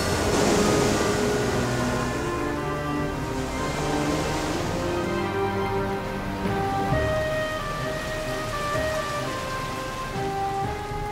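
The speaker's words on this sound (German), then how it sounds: "Der Regen bedeckte die gesamte Erde." Steady rain falls throughout, a dense continuous patter with a rushing wash and no voices over it.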